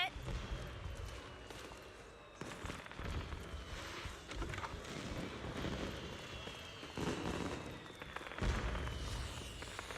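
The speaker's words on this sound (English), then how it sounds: "Why are the fireworks still going off?" Video game fireworks pop and rumble in repeated muffled bursts beneath a steady noisy backdrop, with a person talking over them.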